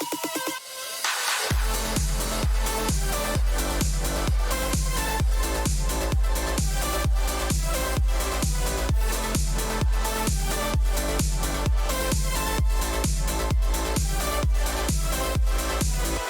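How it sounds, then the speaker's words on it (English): A loud, high-energy trance drop pulses with a steady four-on-the-floor kick and bright layered synths after a short quieter lead-in, with no voices. "So I'm working on this trance track, kind of just messing around."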